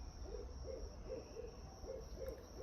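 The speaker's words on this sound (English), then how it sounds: "It's been doing the owl sound." An owl hoots repeatedly outdoors in a garden in March, a soft evenly spaced series of low hoots, fairly distant and faint over a steady background hiss.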